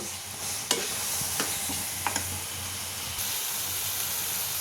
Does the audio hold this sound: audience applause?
no